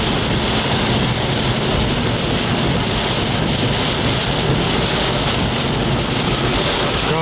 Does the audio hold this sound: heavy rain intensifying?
yes